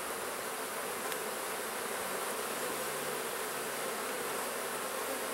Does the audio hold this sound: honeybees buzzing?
yes